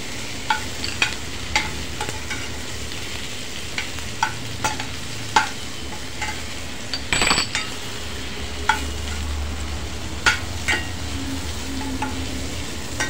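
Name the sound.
frying kasuri methi (dried fenugreek leaves) in a pan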